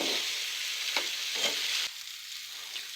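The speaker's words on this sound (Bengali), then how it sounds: "এর মধ্যে দিয়ে দিব আমি আরও সামান্য পরিমাণ তেল, দিয়ে ভালোভাবে ভেজে নেব।" Taro and potato pieces frying in oil with a constant broad sizzle and a few stirring strokes, the hiss dropping noticeably in level partway through, close by.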